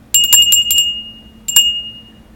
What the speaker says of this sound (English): it's an old silver dollar city bell.